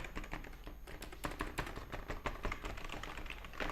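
Rapid typing on a thin, low-profile Nuo Smart Tech gaming keyboard, a steady stream of light, soft key clicks close to the mic with no voices.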